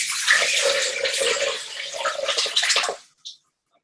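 Homemade lemonade pours steadily through a strainer into a jug with a splashing, hissing rush for about three seconds, then stops, followed by a short final splash.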